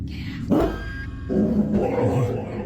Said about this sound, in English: The dog seems to bark and react to something that his owner can't see.